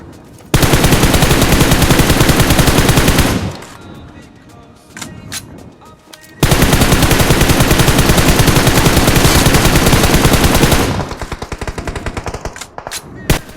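Rapid automatic gunfire in the BGMI battle royale game, two long loud bursts of fast repeated shots separated by a quieter gap with a few scattered single shots, close and dominating.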